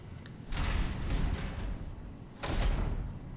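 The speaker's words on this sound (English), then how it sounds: "Open the door." A door opens in the Resident Evil video game, heard as two broad, loud whooshing sweeps of sliding mechanism noise with a low rumble, with no talk over it.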